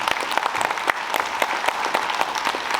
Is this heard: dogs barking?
no